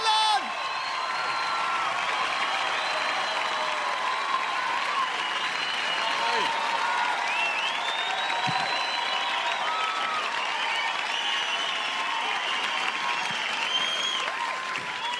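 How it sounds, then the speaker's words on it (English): A comedy-show audience applauds warmly as comedian Ardal O'Hanlon is welcomed to the stage, a full, sustained round of clapping from a large crowd with a few scattered whoops throughout. "Please give a huge round of applause for the very wonderful Ardal O'Hanlon!"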